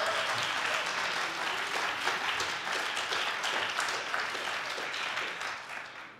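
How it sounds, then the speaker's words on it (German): Dense, sustained applause from a crowd at a Green party (Bündnis 90/Die Grünen) nominating assembly, staying loud and even before fading away at the end. "Applaus"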